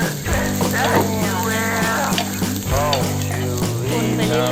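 Garlic sizzles steadily in a hot pan for Thai salt-and-chili roasted pork belly, with soft scraping as it is stirred; the frying is close and continuous, with no talk.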